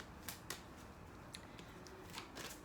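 Tarot cards being shuffled by hand come through as a few faint, soft riffling snaps spaced irregularly over quiet room noise.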